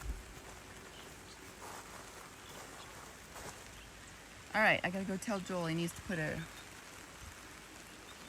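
Rain falls steadily over a garden yard, a soft, even patter in the background while a person speaks briefly near the end.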